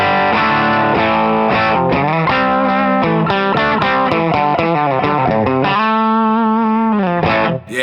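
Epiphone Les Paul Special electric guitar played through distortion and effects, a run of ringing chords and notes with a sustained chord near the end, loud and close with no talking.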